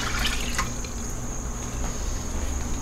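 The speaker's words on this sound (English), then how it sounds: "Now I'm going to add 8 cups of water" Water poured into the pot of a Cosori multi cooker while making pasta carbonara, a steady continuous splashing and trickling stream, close and fairly loud, with no talking.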